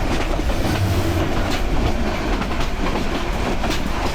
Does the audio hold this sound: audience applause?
no